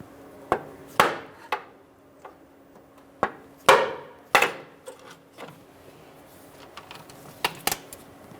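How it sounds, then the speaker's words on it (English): Sharp metallic hammer taps on a long pry bar breaking a single-use tie rod boot clamp on a 2012-2015 Honda Civic, a dozen or so irregular strikes, some in quick pairs, close and fairly loud with no talking. "I'm just going to use a long pry bar and a hammer to tap it out of place"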